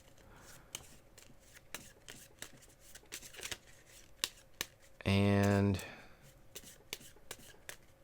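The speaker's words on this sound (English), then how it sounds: "So we have to shuffle this deck up." A deck of cards for the Star Wars The Clone Wars board game is shuffled by hand during solo play: soft scattered ticks and rustles, then one dense, buzzing riffle burst of under a second, close by, with a voice speaking briefly.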